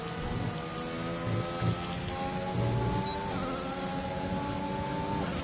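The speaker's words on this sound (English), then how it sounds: "I feel like it's been raining forever now" Steady rain hiss in a sim racing game at the Mexico round, blended with the whine of racing car engines rising and shifting, continuous and fairly loud with no talk.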